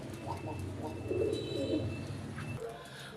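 Silver Golla pigeons coo softly in low, throaty rolling bursts, with faint chirps and a steady background hum around them.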